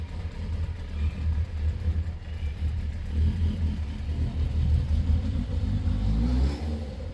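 A Suzuki GSX-R motorcycle engine on a test ride rumbles at a distance, rising into a rev toward the end.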